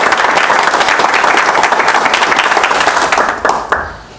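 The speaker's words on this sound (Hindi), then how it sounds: "ताली बजाओ अपने लिए" A loud audience at a network business training session bursts into sustained applause, dense clapping throughout that thins and tapers near the end.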